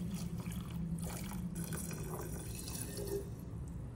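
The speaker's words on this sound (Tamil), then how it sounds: "சரி, 2வது கப்பு வினிகர் ஊற்றிடுறேன்." Vinegar is poured from a cup into a container, a soft, steady liquid trickle and splash heard close by and fairly quiet for a few seconds, with no speech.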